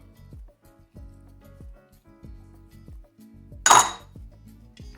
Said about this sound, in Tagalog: Ngayon ay haluin na natin maigi ang ating cassava.